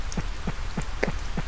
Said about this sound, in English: with today being a rainy day